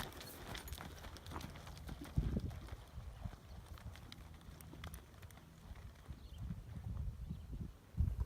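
Horse hooves clip-clop over the ground during a barrel racing lesson, a steady rhythmic thudding with a few heavier footfalls, fairly distant and faint against the background.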